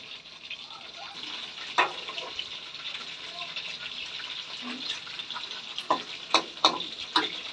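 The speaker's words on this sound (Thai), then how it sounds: "แต่ปุ้งแป้งบางๆ แล้วก็เอามาทอด ทอดให้ลูกๆจ้ะ" Thinly battered food fries in hot oil in a pan, giving a steady sizzle broken by sharp spattering pops and stirring scrapes, with a voice faintly in the background.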